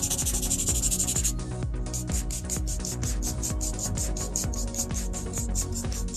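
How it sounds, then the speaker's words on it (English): A buffer scrubs the top surface of an acrylic nail in quick, rhythmic rubbing strokes, close and clear, with a brief pause near the start. "now I'm taking my smoothie buffer and buffing the whole top surface of the nail"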